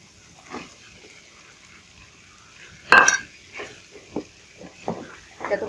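Pumpkin pieces tipped into a pan of prawn masala and stirred, giving a few scraping clinks of a spatula against the metal pan with one louder clatter midway, close by and fairly quiet between strokes.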